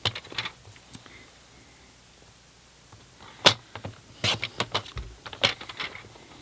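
Paper trimmer blade slicing the corners off a sheet of card stock for a diamond-front greeting card, heard as a few sharp crisp cuts and clicks in a quiet room.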